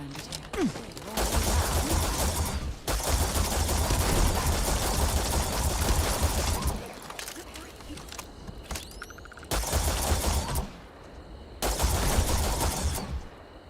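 Bursts of rapid automatic gunfire from a weapon in Starfield, played in survival mode, come in several loud sustained volleys separated by short pauses, with mechanical clicks between them.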